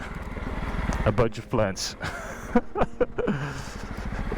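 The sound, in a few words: Sierra 300 motorcycle with a dangling exhaust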